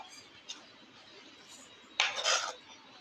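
Chopped onion tipped into a cooking pot for Andhra-style uggi, a faint clink followed by a short loud rattle and clatter of metal utensils, no voices.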